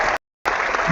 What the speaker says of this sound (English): Round of applause to joining Lawrence in this special day.